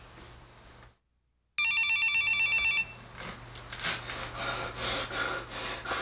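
A telephone rings late at night with a bright electronic trill lasting about a second after a moment of silence, then fades into rustling room noise.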